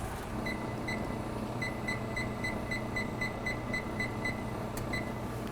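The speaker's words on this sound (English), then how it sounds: "We'll put the timer on for 12 minutes." A kitchen timer set during cooking beeps in a steady series of short, evenly spaced electronic tones over a constant background hum, moderately faint and with no talking.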